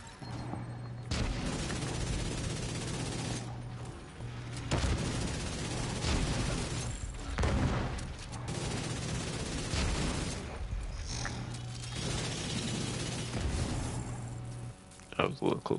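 Gunfire and explosions from a grenade launcher in The Division 2, with repeated bursts of shots and booming blasts that rise and fall over about sixteen seconds under a steady hum of game noise.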